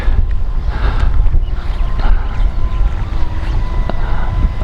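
Wind rushes loudly and continuously across the microphone outdoors while a small smartphone-controlled model airplane flies into a breeze, a heavy low buffeting roar with no voices.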